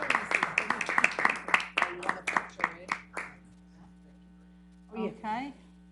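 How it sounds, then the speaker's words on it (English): Brief applause at a council meeting during an oath of office: a short scatter of hand claps from a small group over a low mains hum, fading after about three seconds, followed by a few words of speech. "let's give him a little bit of a round of applause"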